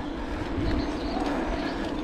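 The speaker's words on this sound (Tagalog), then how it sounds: "daming ibon, iba't ibang uri ng ibon na humuhuni." Outdoor morning birdsong with a mix of chirps and a low cooing from pigeons or doves, steady and moderately loud against a continuous background rumble, no talking.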